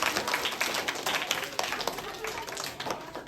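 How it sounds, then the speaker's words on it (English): Faint, scattered clapping from an audience at a school Independence Day celebration, a quiet patter of hands heard throughout from a distance. "Let's clap for him."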